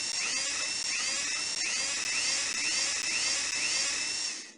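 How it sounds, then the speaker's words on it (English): A high-pitched whining drill from the 1998 PC game Tonka Workshop runs loud and continuous, with rhythmic pitch sweeps repeating about every half second before fading out. "You'll need the drill to make holes in the tops of the towers for flagpoles."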